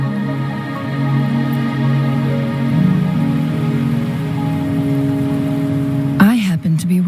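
Steady rain falls in the video game Wuthering Waves, a constant soft wash holding for about six seconds before a sudden shift into brief louder movement near the end.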